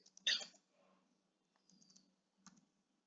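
Quiet keystrokes on a computer keyboard while entering Python code, a quick cluster of clicks, then a few scattered taps after a pause, soft and close with faint talk.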